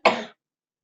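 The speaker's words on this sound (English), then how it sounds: "I'm recovering from a bad cough" A single short, sharp human cough, close and dry, fading quickly into silence.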